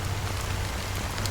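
Steady rain falling in the video game Honkai: Star Rail, a dense, even hiss of drops on surfaces that stays loud and unbroken throughout, with no voices.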